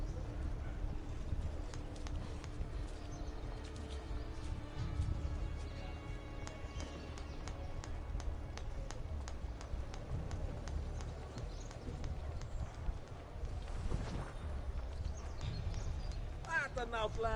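Horse hooves clip-clop steadily in an Assassin's Creed game scene, a continuous rhythmic trot beneath background ambience and in-game voices talking.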